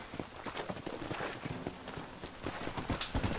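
A racing horse gallops in Red Dead Redemption, quick rapid hoof clip-clops in a continuous rhythm, fairly close and moderately loud over faint background noise.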